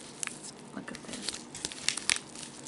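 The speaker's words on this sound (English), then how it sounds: "It's like crinkle, crinkle, crinkle." Crinkly material being squeezed and handled close to the mic, giving a short run of soft crackling rustles with a few sharper crinkly snaps near the end.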